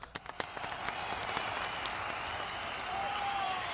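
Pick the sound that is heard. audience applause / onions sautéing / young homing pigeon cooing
audience applause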